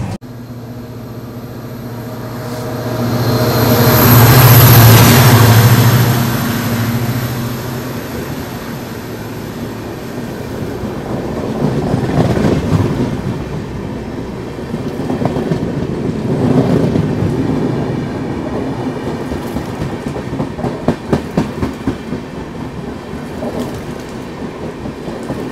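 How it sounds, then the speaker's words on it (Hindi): Rumble and rush of a passing train crossing while riding aboard the Yesvantpur Vasco Express near Madgaon, a loud surge early on, then steady rattling rail noise, with no talking. "ये जो अभी क्रॉसिंग लिया ना, ये वास्को जैसी ट्रेन था"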